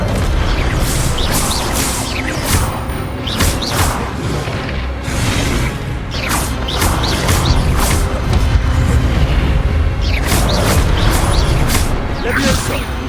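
Spell effects from the video game Hogwarts Legacy, a dense run of booms, whooshes and bursting crashes that repeat continuously and loudly over a constant rumbling game score, with a voice talking throughout.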